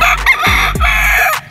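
A Gilmore stag, a gamefowl rooster at a game farm, crows loudly and close in one strained, wavering call, with a few sharp thumps underneath and no voices.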